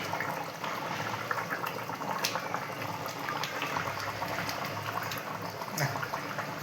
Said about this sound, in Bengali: ঝোল তো দারুণ টকবক করে ফুটছে